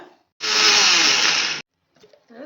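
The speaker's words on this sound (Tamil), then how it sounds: "இந்த ஊற வச்ச பருப்பு அரிசியை மிக்சியில் நல்லா வலுவலுன்னு அரைச்சிக்கலாம்" A loud, steady high-pitched motor whir of a mixer grinder grinding soaked toor dal and rice runs for about a second, then cuts off abruptly, with faint sounds afterward.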